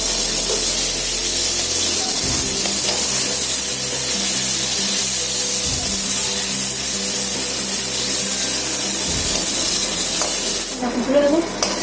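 Potato pieces sizzle steadily in hot oil while a metal spatula cuts into them in three distinct strikes, spaced a few seconds apart, with a brief stir near the end.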